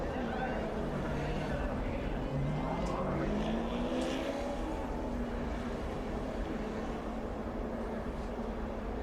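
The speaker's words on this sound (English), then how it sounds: "those cars just getting by on the bottom side" A steady roar of NASCAR stock cars circling at the 2005 UAW-Ford 500, with engines droning and passing one after another, the noise constant and fairly loud throughout.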